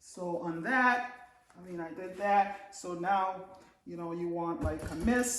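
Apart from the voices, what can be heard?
None of the usual background noises is heard.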